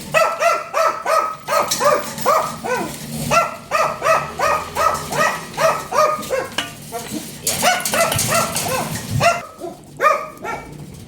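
Several pet dogs waiting to be fed bark excitedly in rapid, repeated bursts at close range, with yips and whimpers mixed in and a person's voice occasionally heard among the racket.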